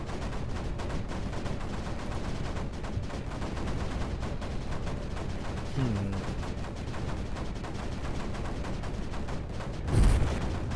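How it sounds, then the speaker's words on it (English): Mortar fire in a serious-mode war video game, dense continuous rumble of explosions and gunfire with a sharper boom near the end. "Let's start out with a few mortars."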